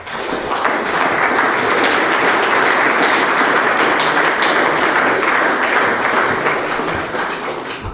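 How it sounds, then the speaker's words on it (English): Members fill a council chamber at a full council meeting with loud, steady applause, a dense, even roar of many hands clapping that holds for about eight seconds and fades slightly at the end. "Applause, please."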